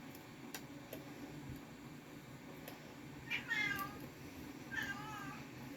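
A cat meows twice nearby, short rising cries a second or so apart, over a quiet room with faint ticking clicks.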